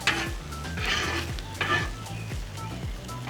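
Onions with butter sizzle on a full griddle over high heat, a steady frying hiss broken by repeated scrapes and clanks of a metal spatula pushing them aside, close and loud with no talk.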